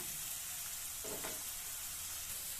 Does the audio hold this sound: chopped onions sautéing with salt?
yes